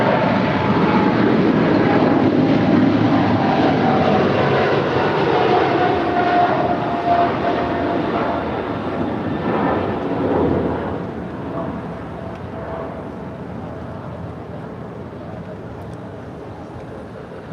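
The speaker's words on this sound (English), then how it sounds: "that's British Airways Flight 28 Foxtrot to London Heathrow. It's a 777-300ER." A British Airways Boeing 777-300ER jet airliner roars loudly nearby, a broad steady engine rumble that slowly fades away over the whole stretch, with no talking.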